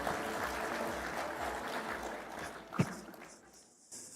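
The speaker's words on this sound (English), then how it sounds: "Another round of applause for our Vice Chair." Moderate audience applause at a devolution conference in Kenya honours the Vice Chair, dense at first and tapering off, with a sharp knock near the end.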